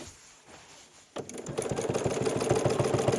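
A sewing machine stitching around a curved quilt block, quiet at first, then starting up after about a second into a fast, even mechanical chatter of needle strokes, close and alone.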